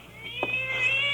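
A cat meows with a rising, drawn-out call over a steady low hum in a quiet indoor space, close and moderately loud, with a short sharper burst partway through.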